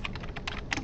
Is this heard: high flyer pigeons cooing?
no